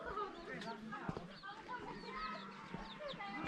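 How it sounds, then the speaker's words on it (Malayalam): Chickens clucking in a village in Mawlynnong, several short close clucks scattered over a low outdoor background while a person talks throughout. "വേണ്ടില്ലേ കോഴിയും കാര്യങ്ങളൊക്കെ ഉണ്ട് ഇവിടെ."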